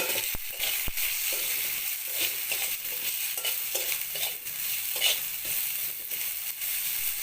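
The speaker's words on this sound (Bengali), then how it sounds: "পাতাগুলো ভাজা হয়ে গেছে, এবার সজনে ডাঁটা দিয়ে নামিয়ে নিই।" Moringa drumstick stems and leaves fry in a salted pan, giving a steady, close sizzle with scraping stirs and small crackles throughout, no voices.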